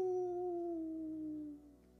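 A single sustained howl imitating a wolf, a steady tone sliding slowly downward and fading out over about two seconds, fairly faint with no other sound.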